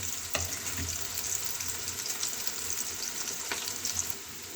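Onions fry until browned along with potatoes, peas and carrots, a steady moderate sizzle with a few sharp clinks of stirring, fading slightly at the end and with no talking.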